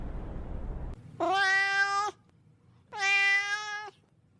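Two long, loud meows from a cat, evenly spaced with a short pause between them, heard clearly with no talking.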